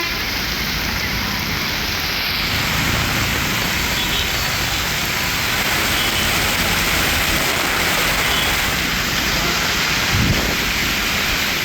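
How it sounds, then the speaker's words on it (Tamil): Heavy rain pours down in a constant, dense hiss that stays loud and even throughout, with no voices over it. "பெய்த கனமழையால் குளுமையான சூழல் நிலவியது"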